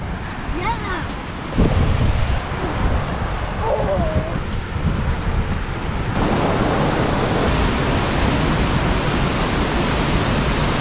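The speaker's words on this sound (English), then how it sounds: "You can tell that water is really rolling." Fast, high river water rushes in a steady broadband roar, loud and continuous, with a brief voice and a knock early on.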